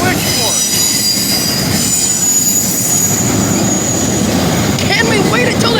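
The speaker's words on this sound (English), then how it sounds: "okay, Caleb, I'll stop the train for you." A train in Ohio rumbles and clanks steadily at close range, and high wheel squeals ring over the heavy rolling noise. It sounds like the train slowing toward a stop.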